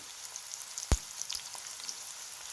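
Chopped onion and salt hitting hot oil in a pan for a potato dish with shing fish, a quiet steady sizzle with one sharp knock near the start and a few faint clicks, no talk.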